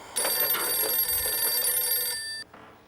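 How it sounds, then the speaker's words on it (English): A telephone bell rings continuously, bright and metallic, for a couple of seconds before cutting off abruptly. "Is that phone ringing?"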